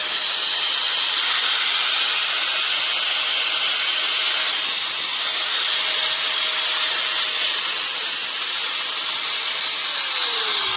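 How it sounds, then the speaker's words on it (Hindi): An Invicto 4-inch angle grinder runs freely after an armature repair, holding a loud, continuous high-pitched whine and hiss at an even level throughout. "तो ग्राइंडर एकदम स्मूथली वर्क कर रहा है और ये अब टाइट भी नहीं है।"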